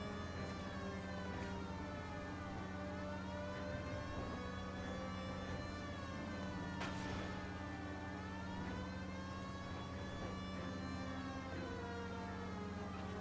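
A police car siren wails continuously in L.A. Noire, its pitch sweeping up and down in long steady cycles over engine rumble, loud and sustained for the whole stretch without speech.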